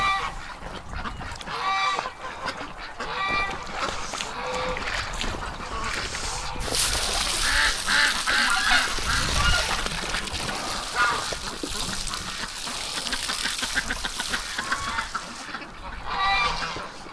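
Several ducks honk and quack repeatedly close by outdoors in winter, calls rising and falling over wind noise and rustling.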